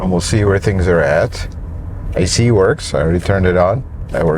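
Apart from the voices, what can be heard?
No everyday noise stands out behind the speech.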